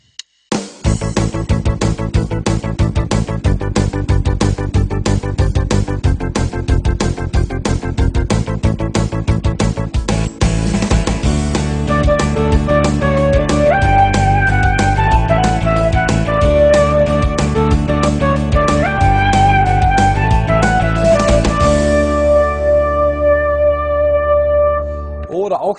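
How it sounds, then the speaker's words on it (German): Yamaha Tyros 3 arranger keyboard plays its German Rock style: a full band backing of drums, bass and chords with a melody on top, loud and continuous for about 25 seconds before the final chord fades out. "Hier hören wir mal den German Rock."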